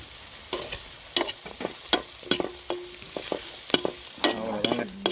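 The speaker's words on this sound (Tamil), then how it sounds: "நம்ம வெள்ளை முட்டை சிக்ஸ்டி ஃபைவ் உள்ளே இறக்கி ஒரு பெரட்டு பெரட்டுனா ஒரு கோட்டிங் ஒன்று வரும்" Egg white 65 pieces stir-fried in a pan of fry masala, with repeated sharp scraping and clanking of a spatula over a soft background sizzle, close and rhythmic.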